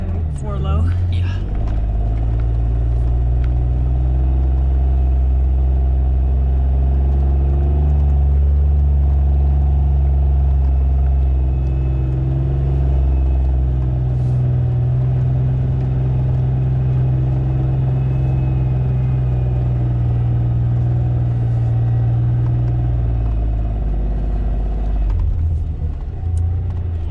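A vehicle crawls along in four-wheel-drive low, its deep, steady engine rumble dominating the whole stretch, while people talk faintly over it.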